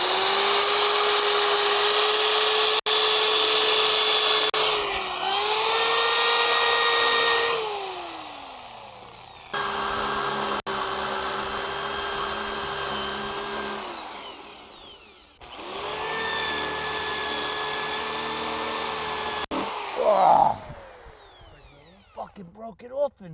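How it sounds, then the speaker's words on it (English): A power drill bores into a seized lug nut on a 2004 Jeep Grand Cherokee in three long, steady whining bursts, stopping briefly between them, with a few clanks at the end. "We had to drill out two of the lugs"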